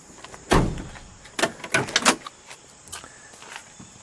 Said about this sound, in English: May I open the door?